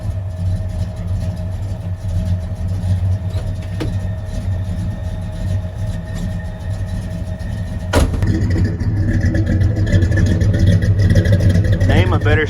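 An old orange Ford truck engine idles steadily after a cold start, a continuous low rumble running throughout with a louder surge of revving near the end, while a person talks over it.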